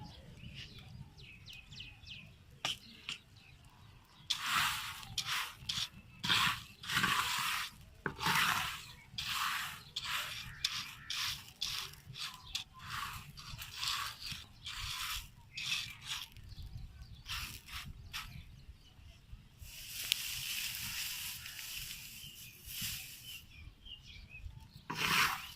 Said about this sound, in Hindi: अभी जौ हम भून लेंगे, दो बार करके हम भूनेंगे